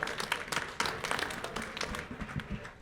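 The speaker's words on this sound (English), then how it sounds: "A round of applause for our panelists." Audience applause for the panelists at a cannabis industry conference panel, a scattered round of clapping, fairly soft and somewhat distant, easing off toward the end.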